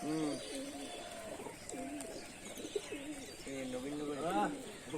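Pet pigeons coo repeatedly in rolling, throaty phrases, fairly close and steady over a soft background hum.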